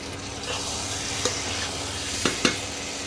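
Mutton frying in oil as a home-ground jungle spice paste is stirred in, a steady loud sizzle with a few distinct scraping strokes of the spoon against the pan.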